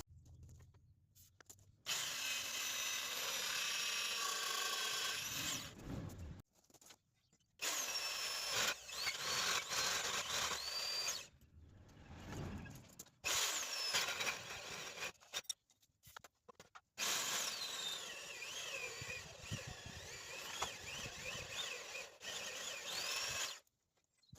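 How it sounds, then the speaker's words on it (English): Power drill boring holes into Land Rover Defender seat rails, whining loudly in several long bursts split by short pauses, each burst rising and falling in pitch as the bit bites through the metal. "So I'm going to drill those now."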